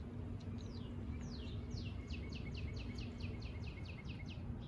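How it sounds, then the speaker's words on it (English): A bird sings in a garden in the early morning, a rapid series of repeated chirping notes that speeds up into a trill, fairly faint over a steady low background hum. "the birds are out singing"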